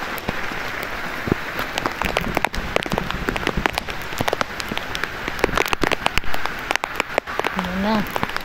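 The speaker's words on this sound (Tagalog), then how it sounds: "Grabe, lakas ng ulan." Heavy rain pours down at a foggy campsite in Cavite, a steady dense hiss with scattered sharper drops and patters, close and loud, with brief voices talking near the end.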